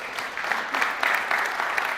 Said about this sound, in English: Please clap for Colleen.